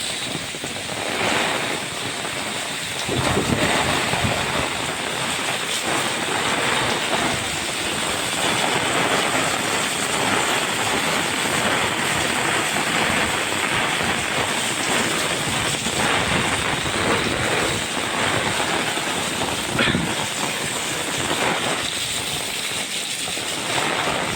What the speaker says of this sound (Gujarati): વરસાદ પણ આજે એવો આવી રહ્યો છે, ફૂલ જ વરસાદ આવી રહ્યો છે